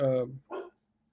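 A dog barks twice in quick succession, a loud close bark followed by a shorter one, then quiet.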